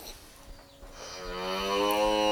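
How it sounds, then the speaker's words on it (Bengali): A Holstein Friesian heifer, pregnant and standing in a farm shed, lets out one long rising moo that swells louder over about two seconds, close to the microphone, with no talk. "এটা একটি হলস্টিন ফ্রিজিয়ান বকনা।"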